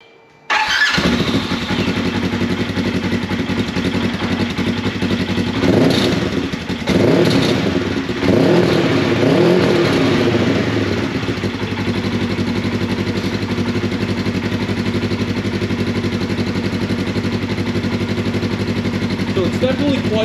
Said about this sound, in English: let's fire it up, let's let you hear it